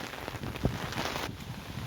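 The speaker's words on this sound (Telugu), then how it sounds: "వర్షం ఎక్కువైంది" Steady rain patters across a surface throughout, a dense, even hiss with a few louder drops standing out.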